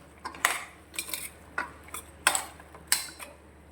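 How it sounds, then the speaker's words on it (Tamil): A metal spoon clanks and scrapes inside a pot as mutton bones are stirred into sautéed tomatoes for mutton bone soup, with several sharp, close clinks at irregular intervals and no talking. "இப்போ க்ளீன் பண்ணி வச்சு எலும்பை சேர்த்துக்கோங்க. அதையும் நல்லா மிக்ஸ் பண்ணிடுங்க."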